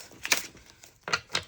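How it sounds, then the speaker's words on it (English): A deck of tarot cards being shuffled, with quick crisp riffling bursts separated by brief pauses, close and fairly loud, with no talking. "We're going to shuffle them and see what comes out."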